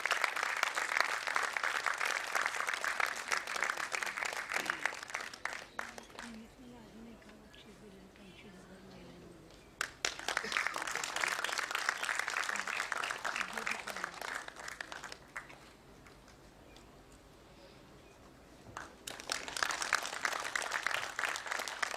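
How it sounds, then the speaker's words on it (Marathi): Bursts of loud, close audience applause at a support team felicitation ceremony, with three sustained waves of clapping separated by quieter gaps of murmuring. "जरा जोरदार टाळ्या वाजून प्लीज कौतुक करा सगळ्यांचं"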